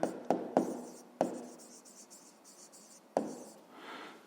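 Pen or pencil writing by hand during a 5th grade math exercise, scratchy strokes with several sharp taps as the tip meets the page, close and quiet.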